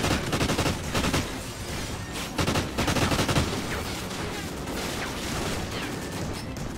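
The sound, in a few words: gunfire from the video game Call of Duty: Ghosts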